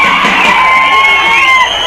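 A large crowd of thousands cheers and shouts at a festival where two groups pelt each other with cow dung, a loud, dense roar of voices held steady throughout.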